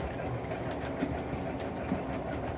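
O gauge model train with DCC momentum set high, coasting after the throttle is shut off, a steady rolling rumble with light clickety-clack of wheels over rail joints, fairly faint and continuous.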